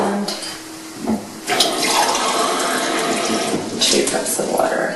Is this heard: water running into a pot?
yes